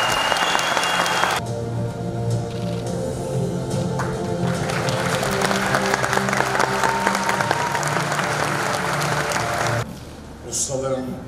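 Loud, dense applause fills a film festival hall in Malatya as an honorary award recipient is invited to the stage, with music playing alongside the clapping before it fades near the end.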